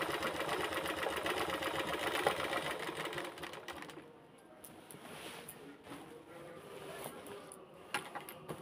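A sewing machine stitches a fall border onto a saree, running steadily and fairly loud for about four seconds, then quieter handling and faint clicks follow.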